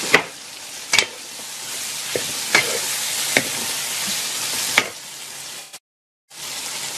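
Cooked dum kebabs sizzle in masala in a pan, a steady close hiss punctuated by several sharp clanks of a utensil, cutting briefly to silence before the sizzling resumes.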